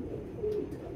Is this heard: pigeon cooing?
yes